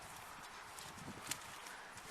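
Hooves of a walking horse, a mare on a farm, clip-clop softly and irregularly at a distance, faint steps over a low background hiss with one sharper knock near the middle.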